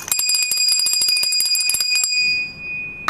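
A small bell rings in a rapid, bright run of repeated strikes for about two seconds, then stops and leaves one clear ringing tone hanging. It sounds close and loud, with no talk over it.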